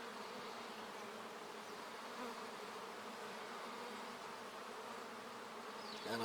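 A honeybee colony hums steadily and softly during an early-season hive inspection, a continuous close buzz with no talking.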